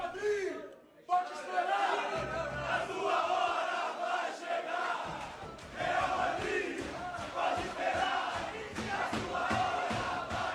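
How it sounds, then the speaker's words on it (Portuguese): Football supporters' chant that began with the Vasco fans, a crowd of voices singing and shouting together. The rhythmic group vocals sit close, with a brief gap near the start and some chatter mixed in. "esse cântico surgiu com a torcida do Vasco no pré-mundial de 1998"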